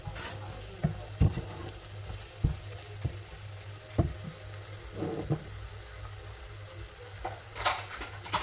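Beef coconut curry sizzles and fries steadily in a pan while a utensil stirs and scrapes through it, with irregular knocks and clanks against the pan over the constant frying hiss.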